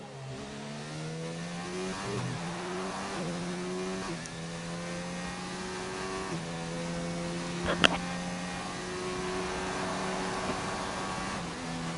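A racing car engine heard onboard during a lap in a video game, a steady mid-pitched drone that climbs through gears with regular shift steps, a brief sharp click midway, and a continuous whine throughout.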